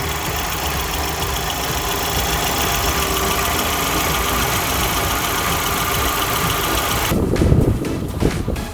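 A 1992 Hyundai Grandeur 2.0 with manual transmission and about 256,000 km idles steadily in the engine bay, a constant close hum and ticking that turns rougher and thumpier near the end.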